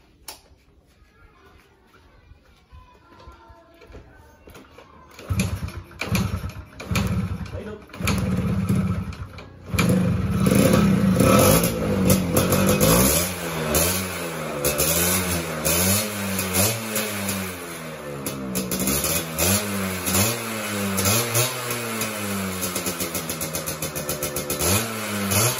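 A Yamaha F1Z R two-stroke motorcycle engine cranks and catches after a quiet start, then idles loudly and revs repeatedly in rising and falling bursts, close up throughout.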